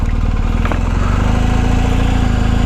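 A 2019 BMW R 1250 GS Adventure manoeuvres at low speed, its boxer engine a loud, close, steady low throb with an even pulsing rhythm throughout.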